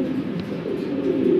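Fancy pigeons coo at a farm, a soft, low, continuous burbling from several birds nearby, steady and unbroken throughout the short stretch.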